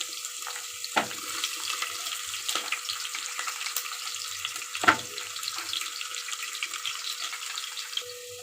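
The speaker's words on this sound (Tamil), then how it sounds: "இந்த இஞ்சியும் பூண்டும் நல்லாவே வதங்கிடுச்சு" Finely chopped ginger and garlic fry in coconut oil with a steady soft crackling sizzle and occasional sharper pops and spatters, close but fairly quiet, with no talking.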